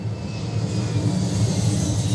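Airplane cabin during boarding, a steady low engine drone with a broad hum, continuous and moderately loud with no talk.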